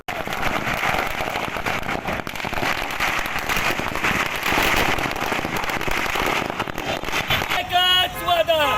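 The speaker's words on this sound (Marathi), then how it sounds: "फटाक्यांची आतषबाजी करत जल्लोष करण्यात आला" Rapid, dense crackling bursts of firecrackers going off continuously at a political party victory celebration, loud and sustained, with cheering and whistle-like shrieks near the end.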